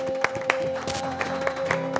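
A studio audience on a local Córdoba New Year's Eve television show applauds, dense clapping with a few sharper individual claps standing out over a steady tone in the room.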